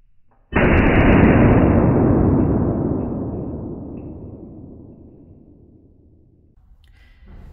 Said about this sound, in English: Here I will demonstrate just how dangerous a blank gun with an open barrel can be